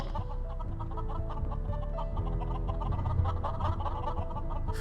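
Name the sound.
chickens clucking in a video game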